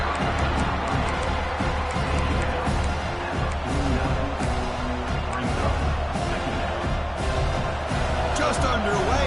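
A home crowd fills the stands at a Georgia Tech football game, a dense, continuous roar of cheering that stays loud and constant with scattered thumps and swells.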